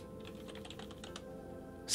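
Quick, light keystrokes as a URL is typed on a computer keyboard, a run of close clicks that stops, followed by a brief louder burst at the very end.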